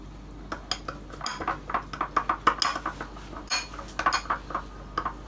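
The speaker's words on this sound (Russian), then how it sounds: "и будем мешать." A spoon stirs thick sesame paste and water into tahini sauce in a bowl, clinking and scraping against the sides in quick, irregular strokes, close and clear.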